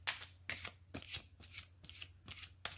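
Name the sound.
shuffling tarot and oracle card decks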